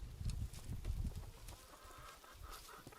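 Six-week-old Cornish Cross chickens eat collard greens, giving soft, scattered clucks and low muffled thuds close by, quiet overall.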